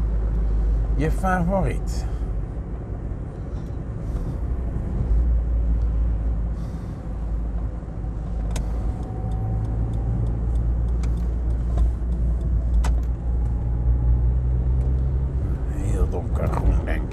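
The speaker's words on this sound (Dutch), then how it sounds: "En weer een fraaie vrachtwagen hier." A truck on a road near Voorburg or Rijswijk rolls past under a constant deep road and engine rumble heard from inside a car, with a brief hiss partway through and people talking at times.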